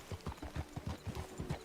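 Horse hooves clip-clop in a steady, even rhythm in a video game, about a dozen clear beats over a low background hum with no talk.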